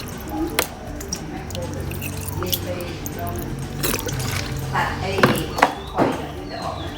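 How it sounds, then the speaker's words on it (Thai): Fish sauce is poured into a Thai yum salad dressing for crispy pork with kale stems. Soft liquid drips and splashes come in scattered bursts while someone talks over them. "ทีนี้เดี๋ยวเราใส่น้ำปลาไปก่อนนะคะ"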